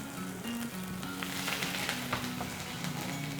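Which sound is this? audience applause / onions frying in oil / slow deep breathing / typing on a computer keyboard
onions frying in oil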